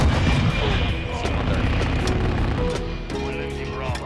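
Gunship cannons fire in Call of Duty MWII, heard as repeated booming shots and blasts over a dense, continuous battle din. Game voices and radio chatter run underneath.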